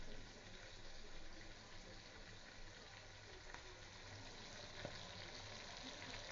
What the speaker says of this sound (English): Last set of chicken for fry.